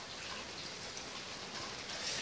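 Rain falls steadily outdoors, a dense, even hiss of drops close by that holds at one level throughout, with no voices.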